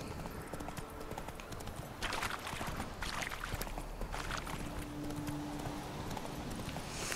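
A horse in The Witcher 3 gallops with a fast, steady clip-clop of hooves over an ambient game backdrop, moderately loud and continuous, with a faint voice at times.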